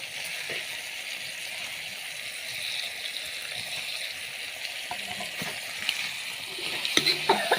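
Oil frying in a pan to cook off its raw smell, a steady soft hiss and sizzle with light clicks from stirring and a few small pops toward the end.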